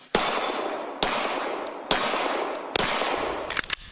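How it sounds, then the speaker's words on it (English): A teenage girl fires a pistol rapidly on a shooting range, four loud, sharp reports about a second apart, each followed by a long ringing decay. "Then her pistol, 17 shots in 17 seconds."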